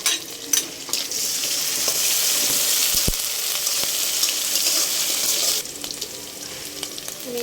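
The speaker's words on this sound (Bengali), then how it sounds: "এই যে আমি পেঁয়াজের সাথে চিংড়ি মাছটাও ভেজে নেবো" Small shrimp and onion fry in hot oil in a wok, giving a loud, steady sizzle with brief stirring clatter, close and alone without speech.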